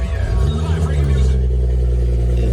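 A rebuilt, previously crashed 2014 BMW M5 with custom exhaust fires up at an auto auction lot, a deep rumbling engine note swelling and then settling into a steady low drone, loud and close.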